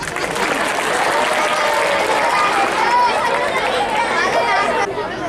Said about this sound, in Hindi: ताली बजा उनके लिए।